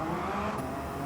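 A Suzuki Jimny in Gran Turismo 7 revs its engine with nitrous on the line, a loud, dense mechanical roar that holds steady for a moment, with no talking.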